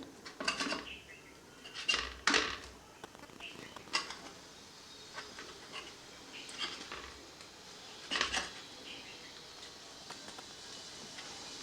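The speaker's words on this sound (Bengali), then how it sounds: "খুন্তি দিয়েই আমি কেটে নিচ্ছি, আপনারা ছুরি দিয়েও কাটতে পারেন।" A metal spatula chops a cooled egg omelette into pieces in a pan, giving scattered, sharp scraping clinks and taps in uneven bursts over a quiet kitchen background.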